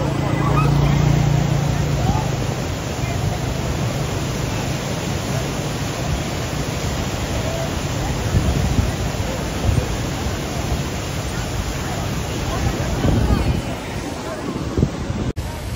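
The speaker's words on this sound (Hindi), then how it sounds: "इधर से जो पानी आ रहा है ना वो बहुत खतरनाक है" Steady rushing stream water roars loudly throughout at a mountain stream crossing, a dense broadband wash with some wind buffeting on the microphone.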